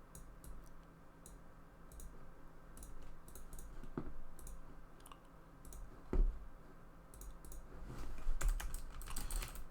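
Code typed on a computer keyboard: bursts of crisp key clicks come in uneven clusters with short pauses between them, close and moderately quiet, with no talking.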